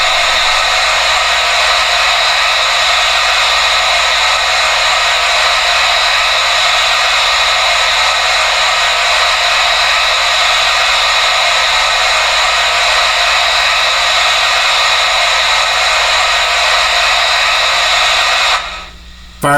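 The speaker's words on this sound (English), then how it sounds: "That's the safety valve popping off." A model steam locomotive's safety valve pops off as a SoundTraxx decoder effect, a loud, steady hiss of venting steam held for about nineteen seconds that cuts off abruptly at the end.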